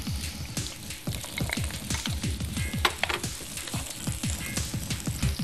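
Vegetables for a Chinese vegetable dish fry loudly in a pan, a dense crackling sizzle with rhythmic scraping strokes of stirring throughout.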